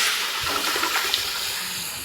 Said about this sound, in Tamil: மீன் குழம்புக்கு தேவையான அளவு தண்ணி ஊற்றிக்கணும்.